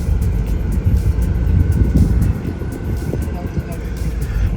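A new Honda City car driving, heard from inside the cabin as a steady, loud low rumble of engine and road noise that runs unbroken from start to finish.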